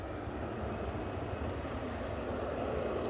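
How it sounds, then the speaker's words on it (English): Aer Lingus airliner on approach to land at Manchester Airport, a steady broad jet roar holding at a constant level throughout, with no voices. "So, Aer Lingus coming in."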